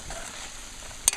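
Eddo and shrimp curry cooks in a pot, giving a soft continuous sizzle with gentle stirring scrapes and one brief sharp clink near the end, close and alone.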